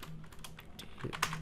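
Computer keyboard keys tapped in a short burst while an HTML bold tag is typed, quiet close clicks in an irregular rhythm with no talk.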